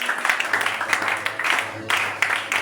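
A church congregation claps and applauds together, steady dense clapping that runs throughout, with voices mixed in beneath it.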